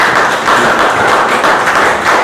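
A room full of people at a Toastmasters club meeting applauds to welcome a veteran Toastmaster, a steady, loud, dense wash of clapping that holds at an even level throughout.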